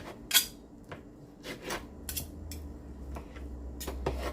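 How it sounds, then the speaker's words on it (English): A kitchen knife cuts food into smaller pieces on a board, giving a few scattered, sharp chops and taps with quiet pauses between them, close by and with no talking. "Whatever ones are too big, I'm just going to cut them down a little bit."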